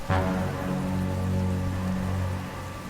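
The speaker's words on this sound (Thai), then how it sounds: "สายฝนก็ไม่มีทีท่าว่าจะหยุดเลย มีนำซ้ำยังตกแรงขึ้นเรื่อยๆเข้าไปอีก" Heavy evening rain pours along a roadside, a dense, steady wash that holds for the whole stretch beneath a sustained low tonal hum.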